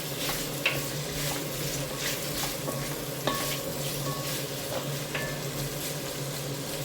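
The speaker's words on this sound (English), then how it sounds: "nobody's ever seen carrots and onions cooking before." Carrots and onions fry in a pan on high heat, giving a steady close sizzle broken by occasional clicks and scrapes of stirring. No one speaks.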